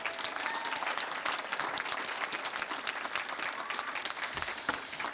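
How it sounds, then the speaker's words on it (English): A crowd at a coronation ball gives a round of applause, a dense, continuous clapping that sounds somewhat distant and moderately quiet throughout. "let's give them one more round of applause"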